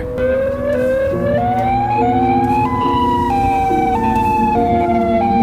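A Modulator siren wails continuously, its rising and falling tones stepping between pitches with a loud, steady output and no voices.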